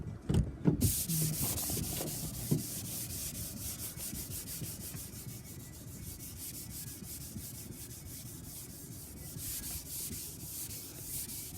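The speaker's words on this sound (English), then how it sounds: "a sanding block with 400" A rust spot on a panel is sanded by hand with a 400-grit sanding block, giving a steady, continuous rhythmic rasping scrub that runs close and even throughout after a brief knock at the start.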